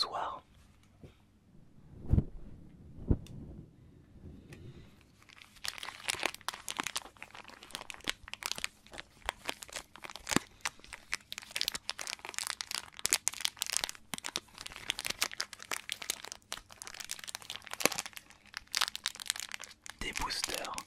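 Crinkling plastic wrappers of BattleTube trading card booster packs being torn open and handled up close, a dense run of crackles and rustles following a few soft taps and quiet moments.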